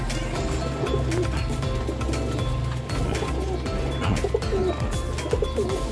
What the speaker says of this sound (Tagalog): Yung pila yan mga kalapatids, oh.